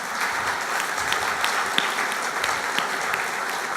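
An audience at a national festival opening for lifelong learning claps in steady, dense applause, even and sustained from start to end.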